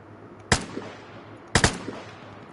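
Two sharp, loud gunshot bursts from a first-person shooter game ring out about a second apart, each with a short decaying echo, over a quiet background.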